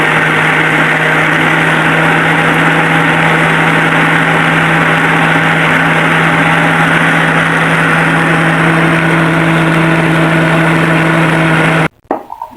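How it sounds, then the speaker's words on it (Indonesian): Kitchen blender grinding bird's eye chilies runs as a loud, steady, continuous motor whir with a strong constant hum for about twelve seconds, then cuts off abruptly, followed by a few brief knocks. "Sekarang kita haluskan cabai rawitnya ya bun."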